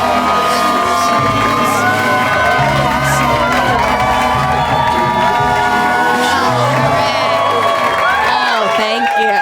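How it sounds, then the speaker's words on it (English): Comedy special audience loudly clapping and cheering as a comedian is introduced, dense continuous applause with whoops and shouts filling the room throughout. "I know you just clapped"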